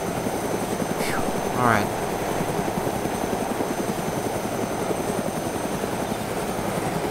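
Helicopter in the survival game DayZ, a steady close rotor chop with a droning engine running throughout, with a brief rising whine near the start and someone speaking briefly over it.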